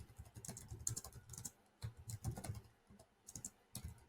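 Typing on a computer keyboard: quiet, close bursts of rapid key clicks separated by short pauses.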